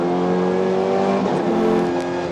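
A 2017 BTCC Honda Civic Type R race car engine revs hard and close, its strong harmonic drone rising and dipping over a couple of seconds with no voices.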